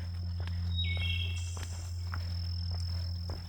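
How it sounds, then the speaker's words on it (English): Crickets chirp steadily in the night, a constant high trill with a brief bird call and a few soft footsteps. "And crickets."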